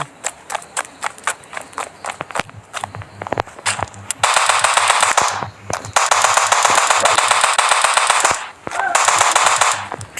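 Gunfire in the mobile game Franklin Indian Bike Driving 3D, rapid sharp shots at first, then long loud sustained automatic bursts with brief pauses between, close and dominant.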